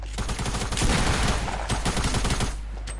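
Rapid gunfire in a shooter video game: dense, fast bursts of shots rattling for about three seconds, loud and close, with no talking over them.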